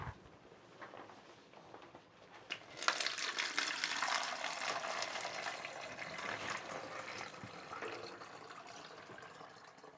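Lemon sugar water for hard lemonade poured into another container, a steady close splashing rush that starts abruptly after a quiet opening and continues at an even level to the end.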